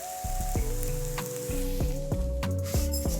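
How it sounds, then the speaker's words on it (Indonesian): Sliced banana frying in a pan until browned, giving a steady sizzle and crackle throughout, close and fairly loud, beneath tonal background music. "Masak hingga pisang berwarna kecoklatan."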